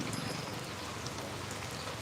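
Live rain falls steadily as a faint, even hiss of drops, with no voices or other sounds.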